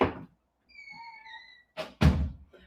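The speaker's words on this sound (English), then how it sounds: "let me close the door" A door closes with a couple of heavy thunks near the end, loud and close, after an earlier thump and a brief high tonal squeak.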